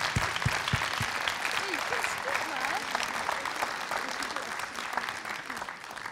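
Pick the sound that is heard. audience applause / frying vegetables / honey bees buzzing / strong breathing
audience applause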